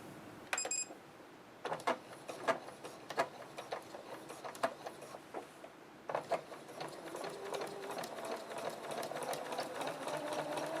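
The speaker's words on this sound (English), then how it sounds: "Make sure you're feeding the fabric very slowly through the machine so you can retain your stretch." Sewing machine stitching slowly through four folded layers of stretch skirt fabric and lining, a rapid mechanical clatter in short stop-start bursts that settles into a steadier hum toward the end, close and clear with no talking.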